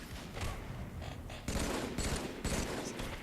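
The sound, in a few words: gunfire in Halo 3 video game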